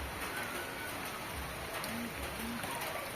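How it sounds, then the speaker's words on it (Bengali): Rain falls in a steady, soft hiss of drops on surfaces, fairly faint and even, with a few brief chirp-like tones over it. "ভিজে যাবা তো, তুমি বৃষ্টির মধ্যেই চলছো।"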